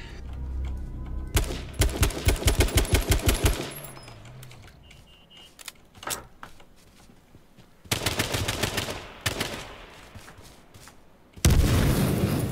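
Rapid bursts of automatic gunfire and single shots in the battle royale game H1Z1 King of the Kill, loud close volleys separated by quieter gaps, ending with a dense burst.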